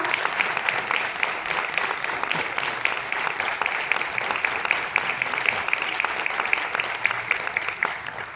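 Sustained audience applause greets performers arriving on stage at the Pandit Bhimsen Joshi classical music festival in Pune. Dense, steady clapping from a large crowd runs throughout without a break, fairly close and even in loudness, with no speech over it.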